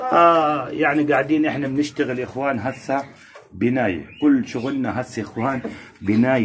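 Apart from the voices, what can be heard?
None of the usual background noises is heard.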